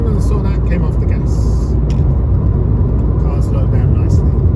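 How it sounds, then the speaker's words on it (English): A car's engine slows down as the driver eases off the accelerator on a driving test route, a loud, steady low rumble of road and engine noise that stays close throughout. "Car slowed down nicely."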